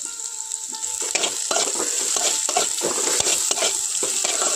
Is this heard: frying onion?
yes